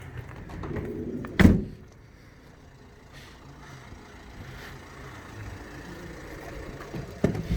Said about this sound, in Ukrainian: Дверки відкриваються без проблем, ролики як нові, самі закриваються